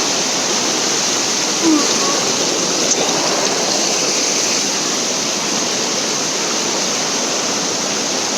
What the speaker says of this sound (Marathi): पाण्याचा आवाज सुद्धा येत असत